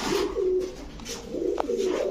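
Giribaz racing pigeons cooing at a pigeon seller's shop, with a few soft, close, repeated coos in a quiet setting.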